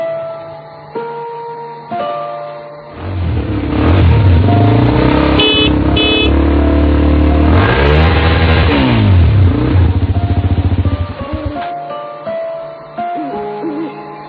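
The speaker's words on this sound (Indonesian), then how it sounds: "Akhirnya ayahku datang dengan motor tuanya." An old motorcycle arriving at night as a radio drama sound effect: the engine grows loud and close, revs hard for several seconds, then settles back to a lower idle.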